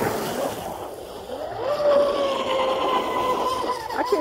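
A small RC fishing boat's motor whines steadily across the water while trolling for bass, its pitch rising as it speeds along, with splashing and wind noise underneath.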